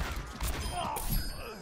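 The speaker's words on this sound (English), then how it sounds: "I just shot the floor." Gunfire in the Overwatch video game, a short burst of shots aimed at the floor, heard amid game effects with faint talk underneath.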